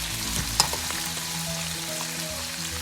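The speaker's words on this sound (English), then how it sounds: "At the same time, just browning the meat." Beef for bistek tagalog browns in a pan over high heat, a dense, even sizzle with one sharp clink early on.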